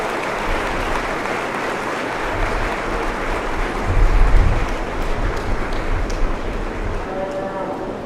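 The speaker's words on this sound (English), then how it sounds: "Give them a big round of applause again." Crowd applause for young 4-H exhibitors at a county fair beef cattle show, a continuous wash of clapping in a large arena with a low rumble beneath, swelling briefly midway before settling back.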